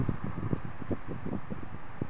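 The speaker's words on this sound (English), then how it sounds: "it is really windy out here" Strong outdoor wind buffets the microphone in a steady low rumble with irregular gusty surges throughout, alone with no voices.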